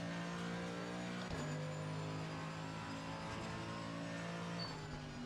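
A race car engine in a racing video game drones with strong steady harmonics, shifting pitch with a brief dip and recovery at one point and then holding high and constant, close and continuous with no talking.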